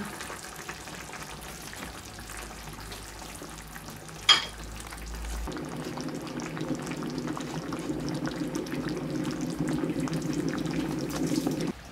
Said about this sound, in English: Curry's been bubbling away quite happily for quite a long time.